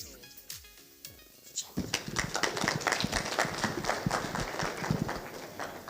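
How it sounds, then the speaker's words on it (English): Audience applause at a national stakeholders symposium, breaking out after a short voiced passage and continuing as dense, lively clapping from many hands until the end. "Thank you very much for the applause"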